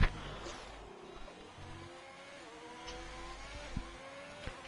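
A Formula racing car in a video game drives a lap on a wet Mexico track, its engine a steady mid-level drone with rising and falling pitch as it shifts, plus faint clicks and bumps.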